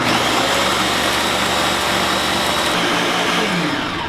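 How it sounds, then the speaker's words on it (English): A blender mixing chocolate pots de crème whirs loudly and continuously, a dense, steady motor roar that eases slightly toward the end. "you want to turn your blender down to low"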